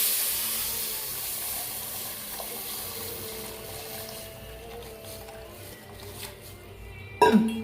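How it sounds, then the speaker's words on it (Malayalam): Water pours into a pan of mackerel curry cooking with kudampuli, a steady close rushing splash that slowly fades, ending in a brief louder clatter. "അപ്പം നമുക്കിനി ഇത് വേവാനുള്ള വെള്ളം അങ്ങോട്ട് ഒഴിച്ചു"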